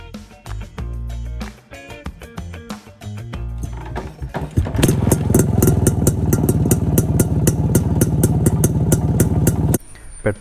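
A 1990 Yezdi Roadking 250cc motorcycle with twin silencers, first sputtering and catching in uneven bursts, then settling into a loud, rapid two-stroke idle that runs steadily close by.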